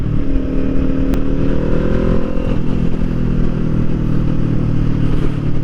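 A Kawasaki Ninja 400 street motorcycle rides along an unpaved trail road, its engine droning steadily and loudly up close with a slight shift in pitch partway through and wind noise around it.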